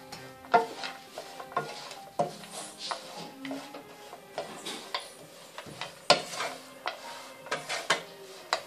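Grated carrots frying in ghee in a wide pan for carrot halwa, with a soft sizzle underneath repeated scraping and stirring strokes of a spoon against the metal, each stir a distinct clack, close and fairly quiet.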